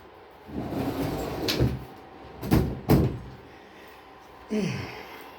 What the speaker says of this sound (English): Let me close this door real quick, guys.